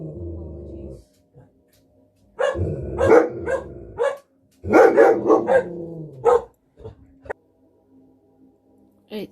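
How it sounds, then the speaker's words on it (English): A dog barks in loud close bursts, a couple of clusters of sharp barks separated by quiet pauses, with a few fainter yips trailing at the end. "the dog was going mental"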